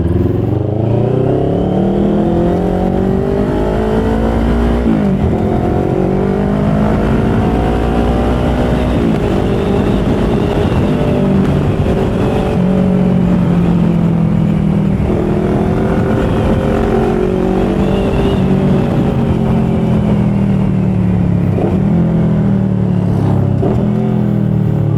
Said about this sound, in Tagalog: open visor without noise cancellation.